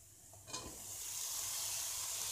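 Tri-color capsicum sautéing in a hot pan gives a steady, bright sizzle that swells and holds loud after a brief stir near the start, with no voices.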